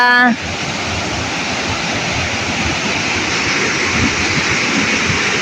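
Bega Falls, a waterfall in Barangay Mabuhay, Prosperidad, Agusan del Sur, Philippines, roars in a loud, continuous, broad rush of falling water heard up close, after a brief tonal sound at the very start.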